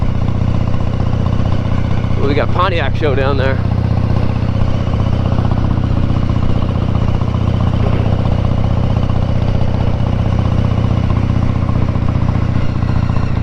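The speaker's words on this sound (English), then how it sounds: "It feels like the engine's clearing up a little bit." A motorcycle built on a Harley-Davidson base idles steadily with a low, constant engine rumble, while someone talks briefly over it near the start.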